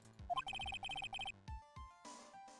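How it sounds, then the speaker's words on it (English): An electronic phone rings in the Ace Attorney video game as a short run of quick repeated beeping tones, followed by low thuds and a brief synthetic chime, all heard clearly with no speech. "There's a phone call for you, sir. They said it was extremely urgent."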